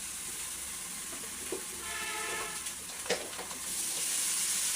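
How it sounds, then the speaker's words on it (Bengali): Beef tripe hits a pan of fried spices and sets off a steady, moderately quiet sizzle and hiss, with a couple of stirring scrapes. "এখন হচ্ছে ভুড়িগুলো ঢেলে দেবো"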